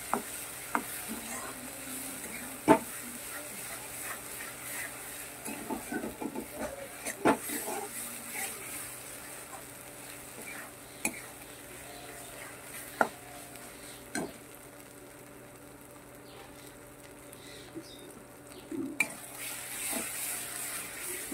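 Poppy seed paste being stirred in a hot pan with a spatula, with scattered scraping and tapping strokes over a faint, steady sizzle; the stirring is intermittent and fairly quiet throughout.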